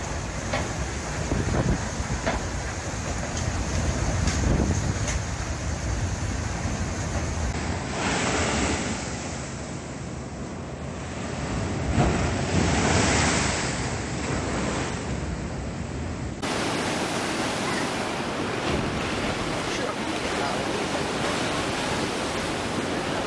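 Heavy Pacific Ocean surf churned up by a passing typhoon, a continuous loud roar of crashing waves with wind noise buffeting the microphone, swelling and easing across the stretch.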